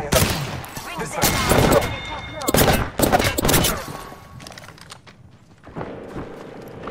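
Gunfire in the battle royale game Apex Legends, with loud rapid bursts of shots and impacts over several seconds, ending in a quieter stretch and a fresh burst.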